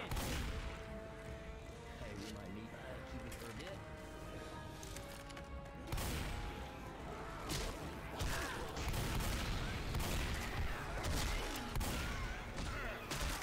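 Bombs and gunfire in Left 4 Dead 2: rapid bursts of shots and repeated heavy blasts over a constant chaotic roar of combat, with someone occasionally talking quietly beneath the noise.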